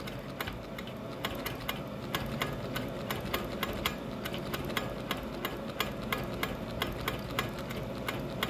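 A sewing machine quilting over wool appliqué, its needle beating in a fast, steady rhythm for several seconds. The sound is close and mechanical, with no voices.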